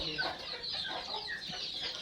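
Chickens cluck and murmur together at a poultry farm in Halni, a steady dense flock chatter filling the space with short overlapping calls, fairly close.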